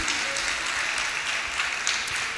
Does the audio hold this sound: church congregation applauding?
yes